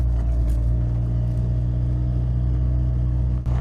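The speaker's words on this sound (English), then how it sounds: "I'm trying to understand a bit how it works to drive in the sand with front-wheel drive." A front-wheel-drive Peugeot 206 pushes across Sahara desert sand, its engine a loud, steady, close rumble that holds constant throughout with no voices over it.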